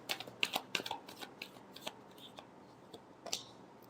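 Tarot cards are shuffled by hand in a quick, uneven run of soft papery riffles and taps, close and quiet with no voice.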